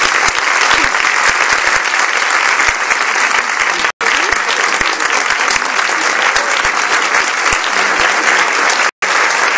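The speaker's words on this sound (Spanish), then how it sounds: "El homenaje inició con aplausos" An audience applauds loudly and continuously at a tribute, a thick, even roar of many hands clapping with two brief dropouts in the sound.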